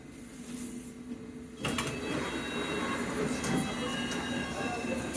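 A London Underground Metropolitan line all-stations train to Aldgate, near Harrow-on-the-Hill, gives a steady rolling rumble that jumps louder after about a second and a half and stays loud, with faint rattles and squeaks on top.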